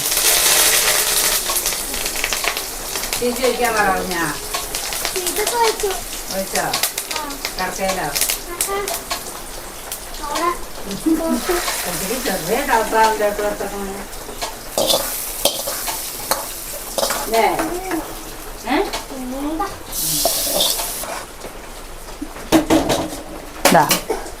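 Food frying and sizzling in coconut oil in a kitchen pan, with steady stirring and clinks of utensils against the pan while a person talks over it throughout.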